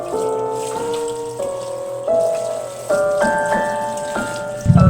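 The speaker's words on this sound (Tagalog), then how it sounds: "hinuhugasan ko naman itong ating talbos" Running tap water pours into a filled basin while sweet potato tops are washed, a splashy stream whose pitch steps upward as the level rises, ending in a burst of louder splashing; no one speaks.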